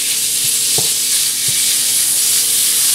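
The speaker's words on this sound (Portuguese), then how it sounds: "Ó, aqui já tá quente, então eu vou jogar o bacon, tem 200 gramas de bacon picadinho." Chopped bacon, about 200 grams, fries in a hot pan with a steady close hiss, broken by a few soft knocks of stirring.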